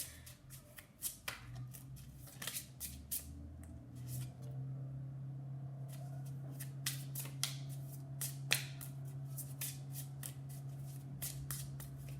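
Tarot cards are handled close up, shuffled and flicked from the deck in a rapid run of sharp slaps and riffles, with a quiet pause near the middle and low hum underneath.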